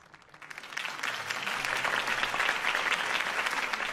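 Crowd applause from a political campaign rally in Batman: Realm of Shadows rises quickly from quiet into a broad, sustained wash of clapping. It stays fairly distant and even, with no talking over it.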